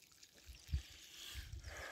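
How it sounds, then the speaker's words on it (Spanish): Garden hose from a slightly opened tap trickling water to irrigate newly planted cornicabra and verata pepper plants, a faint steady dribble outdoors with a few soft splashes. "Ya le abrimos un poquito el grifo. Ya va regando ella sola."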